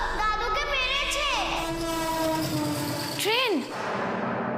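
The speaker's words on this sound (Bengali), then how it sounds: "ট্রেন" A train passes with its horn sounding, a couple of rising and falling horn blasts over a low rumble, partly under talk and background drama score.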